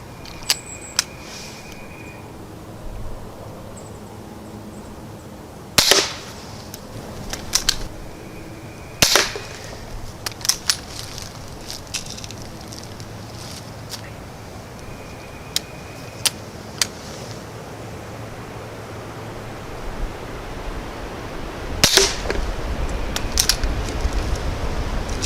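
An air rifle fires RWS pellets outdoors in a few sharp cracks spread over the stretch. Smaller clicks and metallic handling noises of loading fall between shots against a steady background hiss.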